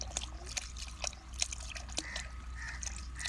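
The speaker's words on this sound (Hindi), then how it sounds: "कन्ना तक भर ला, कन्ना तक बाल्टी।" Water pours steadily into a bucket being filled to the brim, a continuous splashing trickle with small spattering bursts, close by and with no voices.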